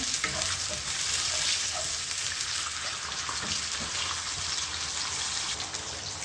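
Onions simmer in a pan after water is added, a steady hissing sizzle, constant bubbling crackle with occasional soft stirring scrapes, no voices.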